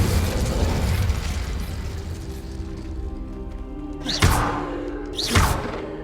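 Confringo spell cast in Hogwarts Legacy, a fiery blast amid rumbling game ambience, followed by two sharp whooshing bursts landing about a second apart.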